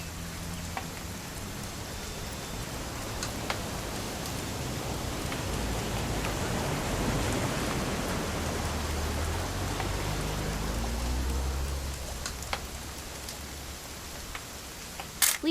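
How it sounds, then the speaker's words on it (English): Steady rain falls throughout a scene in the video game What Remains of Edith Finch, a continuous close hiss of drops on surfaces with occasional sharper drips, swelling slightly midway and ending with a couple of knocks. "It's gonna rain the whole weekend,"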